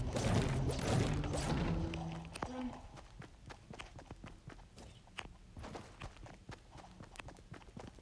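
Footsteps in a video game with a trap-building setting: a run of sharp, evenly spaced footfalls after a louder opening burst, fairly close and steady, with gameplay sounds layered around them.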